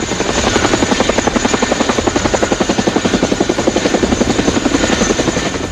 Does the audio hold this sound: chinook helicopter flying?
yes